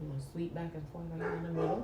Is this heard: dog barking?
yes